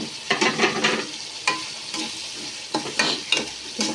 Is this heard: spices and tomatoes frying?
yes